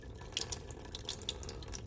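Tap water running into a sink, a faint, soft trickle with small dripping, splashy spatters scattered over a short moment.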